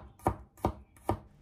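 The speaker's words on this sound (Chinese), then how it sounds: "准备几个去了皮的大蒜子，先把它改刀切成薄片" Knife chopping peeled garlic cloves into thin slices on a cutting board for a home-style cucumber dish: three crisp, evenly spaced chops, close and clear, with no talk.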